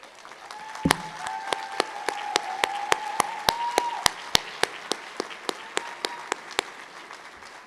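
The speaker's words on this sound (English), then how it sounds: "Please rise and applaud them for their success." An audience applauds honors graduates at Keiser University Tallahassee's spring 2023 commencement. Steady crowd clapping runs throughout, topped by one nearby clapper's sharp, evenly spaced claps, with a faint held tone in the background.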